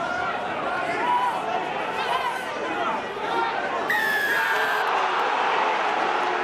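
Crowd noise rumbling steadily through an Ulster v Munster rugby match, a dense mass of chatter and raised voices that swells slightly midway, with a commentator speaking over it.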